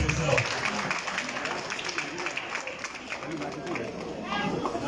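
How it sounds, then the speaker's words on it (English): Students at a school reading-series session clap together, a steady crowd applause with some chatter mixed in, fairly even in loudness throughout. "Please clap for yourself."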